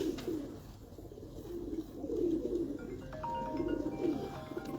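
Pigeons coo in soft, low, rolling phrases that repeat every second or so, fairly close, over a faint background hum.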